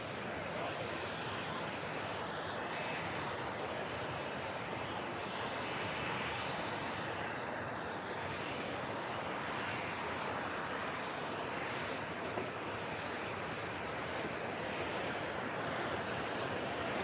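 An L-159A ALCA jet flying in to land at an airshow, a steady broadband roar that holds at a fairly even level throughout, moderately distant and without talk.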